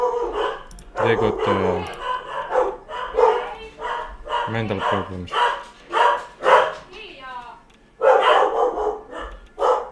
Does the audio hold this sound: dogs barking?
yes